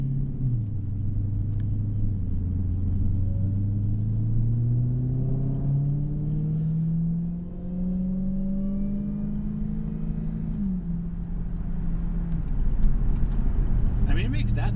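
A 2016 Dodge Challenger Hellcat engine rumbles steadily while driving, a low drone rising and falling slightly in pitch as it cruises without hard acceleration.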